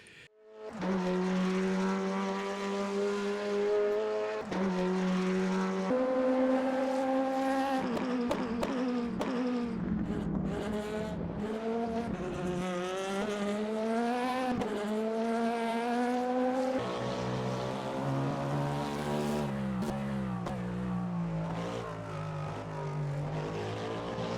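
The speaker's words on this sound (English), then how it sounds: "the engine sounds, I think no sim can top it right now. The sounds outside is incredible." Race car engines from the Le Mans Ultimate sim, covering GTE, LMP2 and LMDH cars heard from outside: loud, continuous droning revs rising and falling through gear changes, with no voices.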